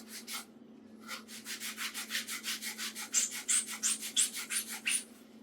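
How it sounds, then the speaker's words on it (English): Sandpaper rubbed by hand against a black exhaust tip caked in thick carbon, a close, steady run of quick back-and-forth scraping strokes in a regular rhythm, with no voices. "for this edge, you probably have to sand it a bit more longer because it's covered with very thick carbon"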